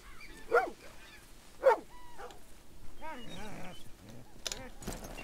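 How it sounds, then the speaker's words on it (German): A Labrador Retriever in Red Dead Redemption gives two sharp, close barks, then a run of softer whimpering yelps, with a faint thump near the end. "Kann man den Hund untersuchen?"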